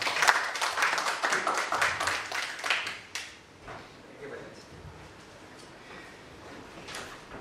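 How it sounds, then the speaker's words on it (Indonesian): Applause from a church audience welcoming a pastor to speak, dense clapping for about three seconds that then stops, leaving a quiet room with faint shuffling. "Kita sambut Pendeta Effendi dengan tepuk tangan"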